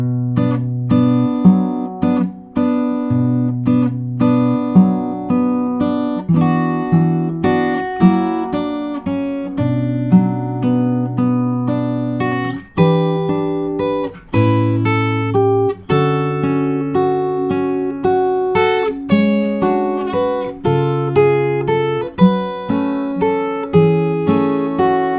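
Fingerstyle guitar plays the Howl's Moving Castle theme waltz, with a continuous flow of plucked melody notes over bass notes, close and clear, solo with no voices.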